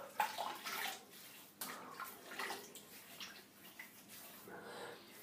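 Very hot water splashes and pours into a bathroom washbasin in uneven, sloshing bursts close by, with no speech over it.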